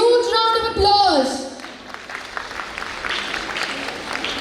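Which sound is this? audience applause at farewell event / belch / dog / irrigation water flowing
audience applause at farewell event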